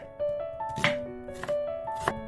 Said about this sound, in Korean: 양파를 썰고